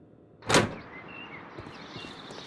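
A door in a Sherlock Holmes video game opens with a sharp, loud click, followed by a soft, fading creak and room ambience.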